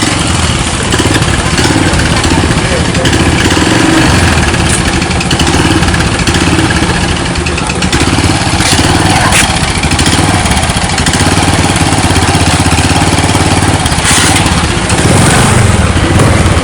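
A motorcycle engine idles steadily and revs up at times on a rural village outing, running loud and close for the whole stretch with no talk over it.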